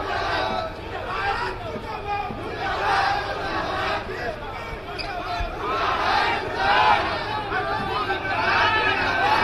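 Protest crowd chanting slogans such as "murdabad" in a rhythmic, loud mass of voices, with continuous babble and surges of shouting filling the whole stretch.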